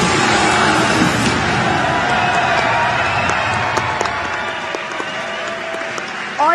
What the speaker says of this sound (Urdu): ای تجارت پورٹل کا افتتاح، آپ سب کی بے شمار تالیوں۔